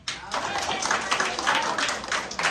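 A church congregation claps together in a dense burst of applause, continuing steadily for a couple of seconds with voices mixed in.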